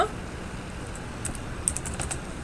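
Fingers type on a computer keyboard at close range, producing soft, irregular clicks and a short quicker burst of keystrokes, with no voices.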